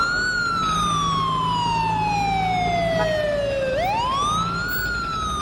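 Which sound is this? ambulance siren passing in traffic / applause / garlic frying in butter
ambulance siren passing in traffic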